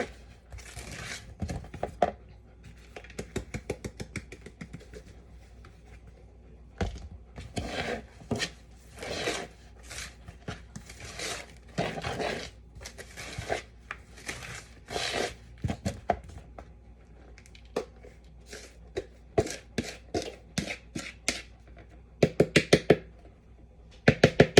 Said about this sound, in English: Now, as you add, you can stir it in to make sure it goes in evenly, but it is going to get thick.